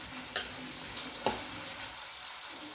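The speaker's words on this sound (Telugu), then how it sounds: "ఉల్లిపాయ చక్కగా వేగేంత వరకు వేయించుకుని అప్పుడు మిగిలినవి వేసుకుందాం" Sliced onions frying in hot oil for an aloo curry, a steady soft sizzle with a couple of sharp scraping stirs of a spoon against the pan, close and fairly quiet.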